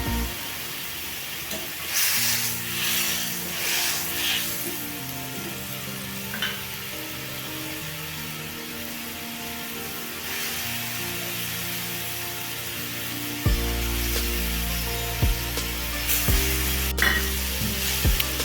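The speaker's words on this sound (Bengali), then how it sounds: "মাছগুলো দিয়ে ভালো করে নাড়াচাড়া করে ঝোলের মধ্যে মিশিয়ে নেব" Fried rohu fish stirred into boiling gravy, a moderate bubbling sizzle with intermittent stirring scrapes, joined near the end by a louder steady hum and a few sharp clinks.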